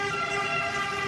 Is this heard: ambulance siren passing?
yes